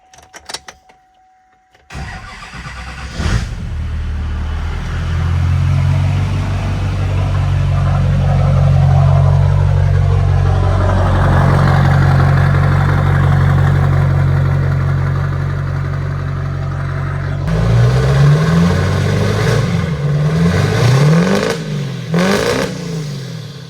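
A Duramax diesel pickup truck engine idles steadily with a deep rumble, then revs briefly several times near the end; close and loud, no talking.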